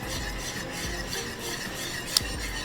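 Heavy cream being whisked into a cheese sauce in a pan, giving a steady, continuous scraping and swishing with soft rhythmic strokes and a brief metallic clink near the end, with no voices.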